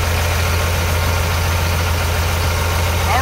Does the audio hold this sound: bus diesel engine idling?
yes